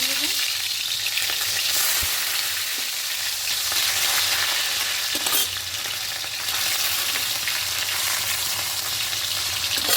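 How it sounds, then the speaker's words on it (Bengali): Hilsa fish heads fry in hot mustard oil in a kadai, a loud continuous sizzle with occasional stirring and turning clinks, close up with no talk. "উল্টে পাল্টে খুব ভালো করে লাল লাল করে ভেজে নেব"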